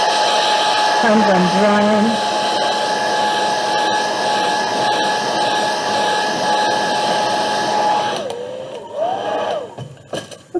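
A hair dryer blows steadily on a watercolor landscape painting, a loud continuous whirring roar that runs almost unbroken before cutting off near the end, with a voice speaking briefly over it.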